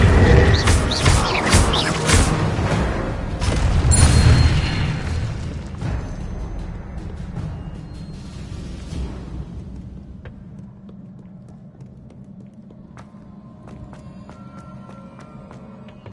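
Explosive spell blasts in a Harry Potter video game on PS4: a loud booming burst with crackling debris, followed by a long rumbling decay that fades into quieter ambient game sounds.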